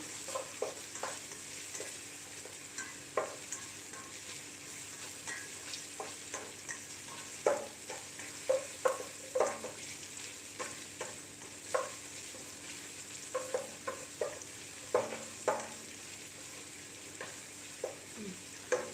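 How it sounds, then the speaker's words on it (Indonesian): Shallots sautéing in a pan for garang asam, a soft continuous sizzle with frequent light scraping and tapping of the spatula, fairly quiet and without talk. "Ini saya tumis dulu bawang merahnya."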